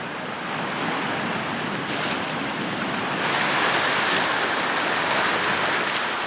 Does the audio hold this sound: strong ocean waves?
yes